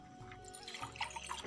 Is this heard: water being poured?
yes